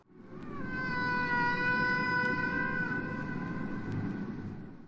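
Humpback whale song: a long, sustained tonal moan rich in harmonics, rising and holding steady for several seconds over a low rumbling background, clear and prominent with no talk.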